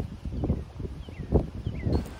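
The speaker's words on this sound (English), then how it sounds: "It is really windy today, so it makes it really hard to film." Strong wind gusts buffet a riverside spot, rumbling and rustling in uneven surges across the whole stretch, close and steady with no voices.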